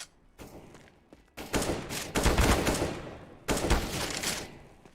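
Bursts of gunfire in Counter-Strike: Global Offensive, loud rapid volleys in several clusters with brief pauses between, a short exclamation from a player in the mix.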